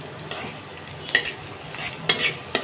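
Chopped onion fries in a pan, browning for tangra fish bhuna, with a low sizzle broken by a few sharp spatula scrapes and clicks as it is stirred.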